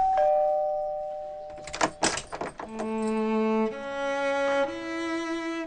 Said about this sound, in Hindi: मेरे सामने तुम्हारे घर की डोरबेल है।